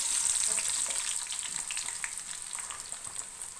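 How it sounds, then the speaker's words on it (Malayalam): Onion sizzles as it fries in hot coconut oil in a pan, a close, bright crackle with busy spitting that eases slightly over the few seconds. "ചൂടായി വരുമ്പോൾ വെളിച്ചെണ്ണ തിളച്ച് വരുമ്പോൾ നമുക്ക് ഈ സബോള അതിലേക്ക് ഇട്ട് കൊടുക്കണം"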